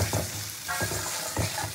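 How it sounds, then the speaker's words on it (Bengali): Masala spice paste sizzling steadily in a pan for a green jackfruit and prawn curry, a close, dense frying hiss with soft stirring scrapes recurring at intervals and no talk. "খুব ভালো করে মশলাটাকে কষিয়ে নিতে হবে যাতে মশলা কোনো কাঁচা গন্ধ না থাকে"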